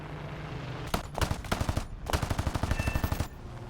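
In a propeller warplane game, .50 cal machine guns fire in quick rhythmic bursts of loud, close shots, a short volley followed by a longer sustained rattle, over a steady engine drone.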